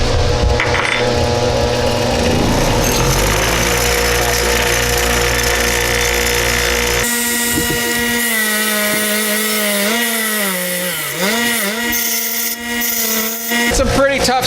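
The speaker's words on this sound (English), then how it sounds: "We're going to grind all this plastic coating off of here and here so we can do some welding." A bench grinder fitted with a wire brush strips tough plastic coating off metal parts before welding, during a custom seat build for a Toyota Land Cruiser. A loud, continuous motor whine runs throughout, and its pitch sags as the brush bites under load.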